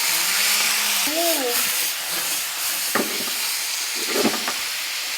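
Chicken hits a pan of frying garlic and sets off a continuous sizzle and crackle, with spatula scrapes and a voice talking over the cooking.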